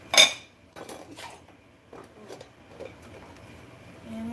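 Pet food dishes handled indoors, with a sharp clatter at the start followed by several softer clinks and knocks spread over a few seconds, fairly quiet and close.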